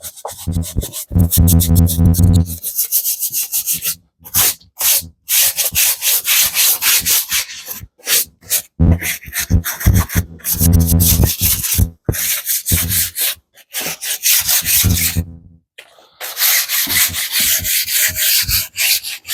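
A stiff brush scrubs a surface to clean off foaming snail mucus. The strokes are loud, close and rasping, coming in repeated bursts with short pauses between them, and no voices are heard.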